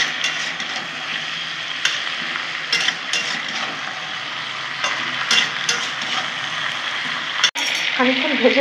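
Vegetables fry in a pan with salt and turmeric, a steady close sizzle with scraping and stirring clatter throughout and a brief sharp knock near the end.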